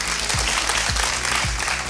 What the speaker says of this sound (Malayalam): രണ്ടുപേർക്ക് നല്ലൊരു കയ്യടി കൊടുത്തേക്ക് പ്ലീസ്